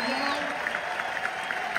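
Steady applause fills a large hall at a tribute concert for Jonny and Marsha Zazula at Hard Rock Live Hollywood, Florida, with a constant roar of many hands and scattered louder claps near the end.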